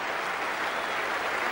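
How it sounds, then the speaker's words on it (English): A cricket crowd at Melbourne in 1985 gives Greg Matthews a sustained ovation for his Test century against India, a broad, even wash of applause heard from a distance, steady and unbroken throughout. "makes his second 100 of the season in Test cricket, gets a wonderful ovation"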